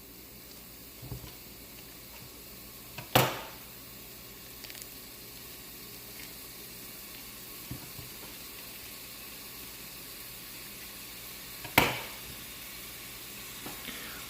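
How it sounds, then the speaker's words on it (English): Ground beef sizzles in a frying pan for chili macaroni, a steady faint crackling hiss with two sharp clatters and a few soft knocks, no voices. "Ooh, y'all see that sizzle?"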